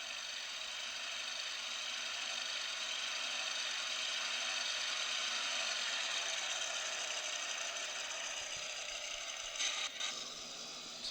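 A steady, droning video-game aircraft engine whine from a Douglas DC-3 in X-Plane 10, overfuelled, holds evenly for several seconds, buzzy and continuous, with a brief flutter near the end.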